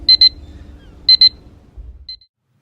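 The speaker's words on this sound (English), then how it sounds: "You heard the alarm go off." Alarm clock going off in the video game The Last of Us Remastered: two quick pairs of bright beeps, a short pause between them, then a fainter final blip over low background rumble.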